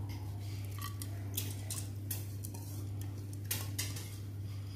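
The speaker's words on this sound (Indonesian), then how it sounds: "sekarang kita masukkan beras injinnya, kita akan rebus" Washed black glutinous rice is added to a pot to boil for Balinese bubur injin, with light clinks, scraping and soft patter of grains and utensils over a steady low hum and no talking.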